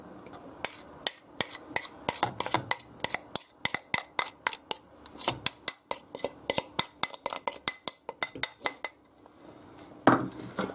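A whisk or spoon scrapes and knocks against a pot while lemon-infused pastry cream is stirred. The sharp, rapid metallic clinks come in a busy, uneven rhythm, close up, with a short pause near the end.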